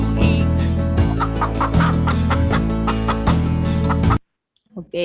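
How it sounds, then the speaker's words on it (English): Hen clucks woven into a children's farmyard song, the clucking sitting over steady music and singing for about four seconds before cutting off, with a brief faint sound at the end. "Chicken. Hen."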